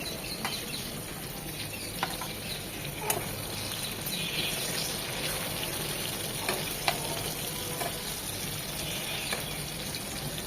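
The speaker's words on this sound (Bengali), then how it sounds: "যে কোনো মাছ রান্না যখন করবো কড়া করে ভাজবো না, জাস্ট এপিট উপিট এক মিনিট করে ভেজে নেবো" Shing fish (stinging catfish) frying lightly in hot oil in a pan, a steady close sizzle and crackle running throughout with a few sharper pops and spatters.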